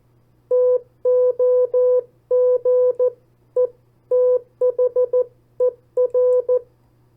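Morse code tones keyed in short and long beeps spelling the word TOGETHER, a steady clean pitch sounding alone over a faint low hum, for copy practice.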